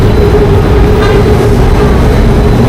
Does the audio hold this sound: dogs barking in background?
no